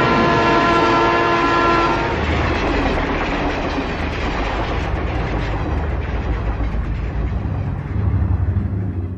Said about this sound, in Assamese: এই ট্ৰেইনখন কলৈ যায় বাৰু